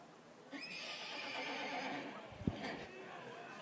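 A horse near an outdoor baseball field gives one long, drawn-out whinny, fairly faint and distant over open-air ambience, followed by a single dull thump.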